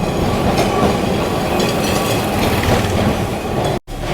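A Kolkata tram running at speed between Shyambazar and Esplanade, a loud continuous rumble with rattling wheels and clatter on the rails, close by, ending in a brief cutoff.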